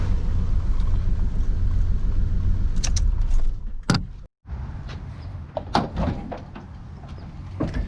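A 1977 AMC Pacer's engine, leaking coolant from the radiator, runs with a steady low rumble and then shuts off, cutting out abruptly about midway, followed by the close clunks and clicks of someone moving around the car.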